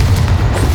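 Confringo blasting spell explodes in Hogwarts Legacy, a deep, loud rumbling boom with a heavy low-end roar sustained for under a second, no voices over it.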